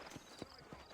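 Horse hooves clip-clop in Red Dead Redemption, with three distinct, evenly spaced hoofbeats heard faintly over a low background hum.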